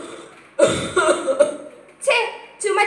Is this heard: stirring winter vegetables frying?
no